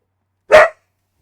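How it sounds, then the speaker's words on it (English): A single sharp bark from a dog outdoors, brief and fairly loud, alone against silence. "that's my dog's barking at something outside"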